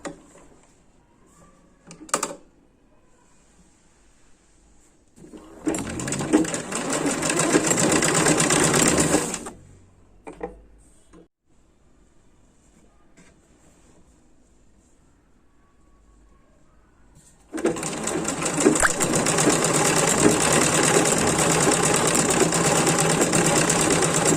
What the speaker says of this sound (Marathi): अटॅच करून घेते आणि शिलाई मारणार आहे